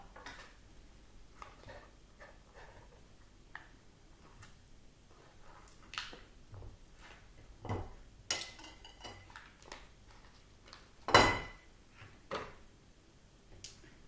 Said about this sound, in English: I'm just going to use a plate to cut my butter.